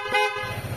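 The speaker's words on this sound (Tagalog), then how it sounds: "na-install na natin yung Hella horn natin" Twin Hella horns fitted to a QJ Motor ATR 160 motorcycle give one short, loud, close honk lasting under a second.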